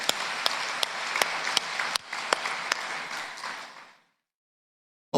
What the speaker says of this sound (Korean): 다시 한번 뜨거운 박수로 응대하시기 바랍니다